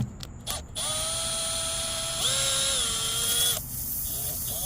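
A power drill whines at steady pitch, dipping and rising as it bites, after a few short clicks, drilling out a Phillips-head screw stuck in a flat car tire; the motor runs for about three seconds then stops.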